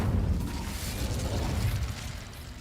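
Incendio fire spell cast in the video game Hogwarts Legacy, a loud roaring whoosh of flame with crackling bursts, sustained for a couple of seconds before easing off.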